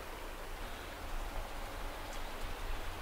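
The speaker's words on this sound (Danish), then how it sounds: "Så godt som det nu kan tørre her i regnvejr." Rain falls during a wet spell in Norway, a steady broadband hiss that stays nearly constant, moderately loud and close, with no voices.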